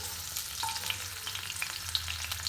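Crushed chopped garlic sizzling in hot oil in a pan, a steady close frying hiss with small crackles and pops, no voices.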